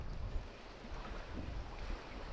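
A small fishing boat travels across open water, with a faint, steady mix of hull splash, water rush and wind buffeting the microphone. No one speaks.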